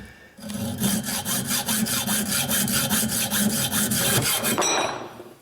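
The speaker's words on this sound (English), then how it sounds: "I'm just using a bi-metal hacksaw blade." A bi-metal hacksaw blade cuts through steel rebar in fast, even back-and-forth strokes, loud and close, keeping a steady rhythm for about four seconds before stopping.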